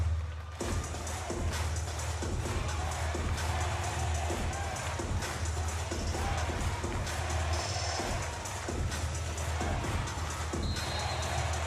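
A large arena crowd at a Japanese B.League basketball game, San-en NeoPhoenix hosting Gunma Crane Thunders, roars in a steady, dense wash of cheering and chanting with rhythmic thumps running underneath throughout.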